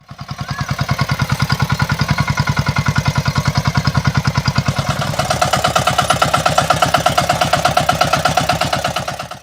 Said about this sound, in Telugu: ఇక్కడ మీరు చూస్తున్నది బుల్లెట్ బండి కాదు అంతకు మించి పనితనం ఉన్న బుల్లెట్ ట్రాక్టర్